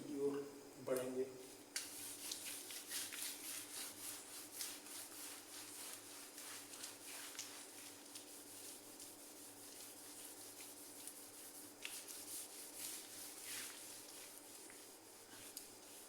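Writing being rubbed off a board, a faint dry scrubbing that keeps going in uneven strokes, with someone speaking quietly over parts of it.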